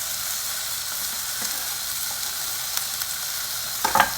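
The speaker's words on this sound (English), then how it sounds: "We're going to go ahead and add our ginger and our garlic." Ginger and garlic sauté with translucent onions in a pan over medium heat for a spicy vegetable soup, giving a steady close sizzle with a few soft stirring scrapes near the end.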